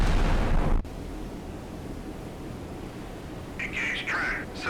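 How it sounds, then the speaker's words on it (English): Full broadside from a warship's Mark 28 5-inch naval guns in the naval combat game Sea Power: a loud, rumbling burst that cuts off abruptly, followed by a quieter background hum and a radio-style voice. "Lloyd Thomas joins in the action with full broadsides from her Mark 28 5-inch guns."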